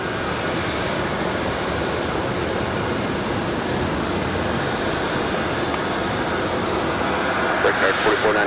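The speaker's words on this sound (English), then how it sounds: "Last departure of the evening. ICE 820 back to Reykjavik." An Icelandair jet departs Raleigh-Durham on an evening flight to Reykjavik, its engines producing a broad, steady roar that holds for several seconds, fairly close and heavy, with some faint lighter sounds near the end.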